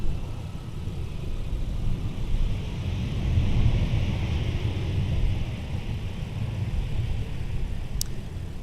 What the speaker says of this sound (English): We got an arriving Embraer about to touch down on 12 right